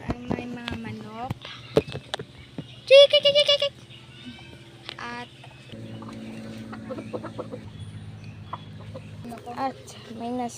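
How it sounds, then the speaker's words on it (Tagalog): Chickens on a farm give a burst of sharp clucks and squawks in the middle, amid someone talking, background chatter and scattered knocks and rustles. "Dito naman ay may mga manok."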